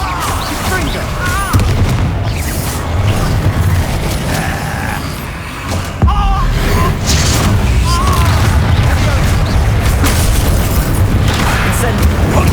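Confringo fire-spell explosions in the video game Hogwarts Legacy burst as a rapid string of loud, close booms and blasts, with a voice shouting over the continuous battle noise.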